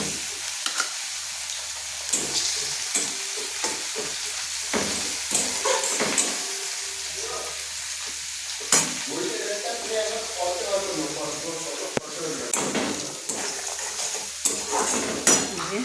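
Chopped tomato goes into onions already fried red in a pan: a constant close sizzle with clinks and scrapes of a utensil against metal, and a voice speaking briefly partway through.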